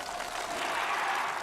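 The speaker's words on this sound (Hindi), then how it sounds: "ये देखकर किम जोंग उन फूला नहीं समाता और तालियां बजाकर अपनी कमांडो फोर्स की तारीफ करता है।" Steady applause from an audience watching commando stunt demonstrations, a brief even burst of dense clapping heard alone at moderate volume.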